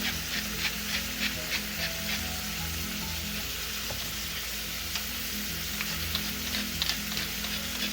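Eggplants sauteing for kare-kare (Filipino oxtail peanut stew) sizzle steadily in hot oil, a loud, continuous frying hiss with occasional stirring scrapes, no talking.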